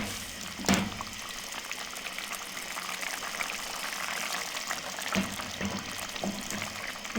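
Turmeric gravy for Lahori chicken chickpeas simmering in a pot, giving a steady soft bubbling hiss throughout with a couple of brief knocks, fairly quiet and with no voice.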